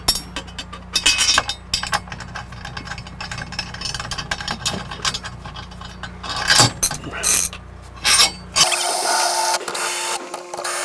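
A ratchet tightens the four center bolts on a Coleman Mach 10 NDQ RV air conditioner, giving a series of close mechanical clicking and ratcheting bursts, followed by a steady hum.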